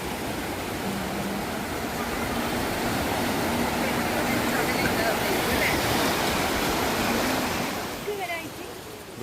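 Broadband wash of sea waves at Ezhara beach near Parappally, steady and loud throughout, easing slightly toward the end.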